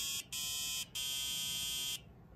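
A Circuit Playground Express board running a Simon game buzzes out its wrong-answer tone: three harsh electronic bursts, the last held longest, clear against a quiet background.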